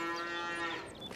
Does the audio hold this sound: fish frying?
no